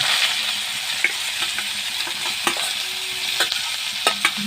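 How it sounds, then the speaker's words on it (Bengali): Leafy greens are fried with garlic in oil and stirred, a continuous sizzle broken by several sharp spatula scrapes and knocks against the pan. "শাকটা দিয়ে এবার আমি ভালো করে নেড়ে চেড়ে ভেজে নেবো।"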